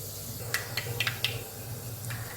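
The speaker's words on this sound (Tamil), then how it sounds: "கடுகு வெந்தயம் சீரகம் நல்லா பொரிஞ்சிருச்சு" Mustard, fenugreek and cumin seeds splutter in hot oil for an egg thokku, a steady faint sizzle broken by several sharp little pops close by, with no talking.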